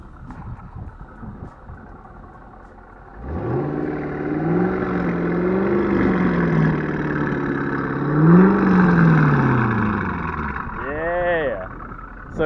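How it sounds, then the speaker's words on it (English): A 2004 C5 Chevrolet Corvette V8 with an aftermarket catback exhaust and intake revs up twice from a low idle, pitch rising and falling, then settles back down. "Give it some revs!"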